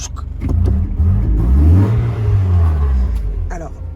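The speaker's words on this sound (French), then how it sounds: "c'est typique des moteurs japonais des années 90, j'adore ce bruit" A 1990s Mazda Miata's Japanese engine revs up and settles with a deep, close rumble and audible intake noise, while a voice talks briefly at the start and end.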